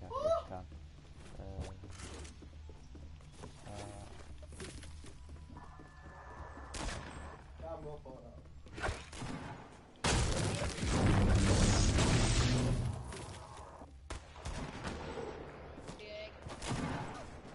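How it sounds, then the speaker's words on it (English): Fortnite gunfire rattles in scattered shots and short bursts, with a dense, loud barrage and booming impacts in the middle, mixed with voices talking over the fight. "I'm shooting at someone."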